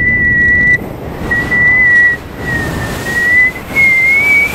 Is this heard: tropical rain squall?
no